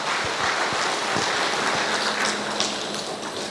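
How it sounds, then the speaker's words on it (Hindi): An audience at a self-empowerment session gives a speaker a round of applause, with dense, steady clapping for a few seconds and no speech. "जोरदार तालियों से इनका स्वागत करेंगे"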